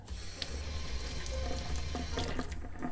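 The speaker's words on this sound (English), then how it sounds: "the first thing that I like to do is to rinse the nib" Water runs steadily from a tap as a fountain pen nib is rinsed, a close, continuous splashing hiss with small shifts where the stream hits the nib.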